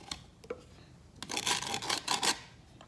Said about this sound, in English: I'm scraping the bowl again.